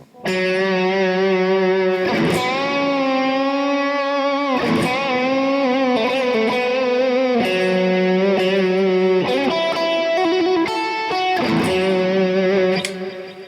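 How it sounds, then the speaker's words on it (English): A distorted electric guitar plays a melodic solo with sustained, bending notes and short runs, loud and alone without any talking. "Here's the first part of the solo."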